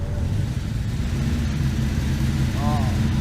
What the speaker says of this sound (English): let's go back to the Morris Minor and just hear that wonderful engine ticking over yet again